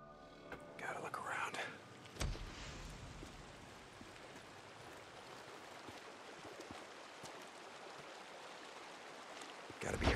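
Flowing creek water in the video game Days Gone, a steady broadband rush that runs through the whole stretch, with a few brief louder splashes or rustles near the start and end.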